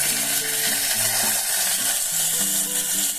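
Soaked chickpeas frying with tomatoes in a pan, giving a continuous close sizzle with faint stirring scrapes and no talking.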